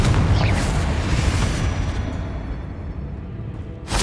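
A Confringo fire-blast spell goes off in Hogwarts Legacy: a loud, sustained booming explosion with a rumbling roar that slowly fades, ending with a sharp fresh burst.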